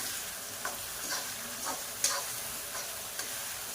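Onions and tomatoes fry in a pan with a steady close sizzle, punctuated by a few soft clicks and scrapes of stirring.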